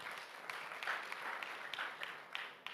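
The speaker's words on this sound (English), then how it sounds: "let's give a hand clap to Leah." Audience applause at an education event in Uganda, a brief patter of scattered hand claps, fairly faint and distant, rising slightly then tapering off.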